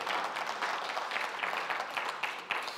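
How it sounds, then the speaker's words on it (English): A round of applause from the audience closing a consumer protection panel session, steady dense clapping throughout without talk. "A round of claps"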